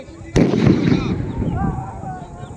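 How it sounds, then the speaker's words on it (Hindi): A loud gunshot cracks once from a firing party during a police riot-control drill, followed by a reverberating tail and crowd noise with people talking in the background. "फायरिंग पार्टी का कमांडर फायर कर दिया है"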